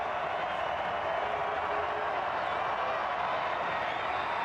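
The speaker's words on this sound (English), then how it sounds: "Crowd comes to life." A college football stadium crowd at Wyoming hosting Hawaii swells into a steady, far-off roar of cheering and applause that holds for several seconds.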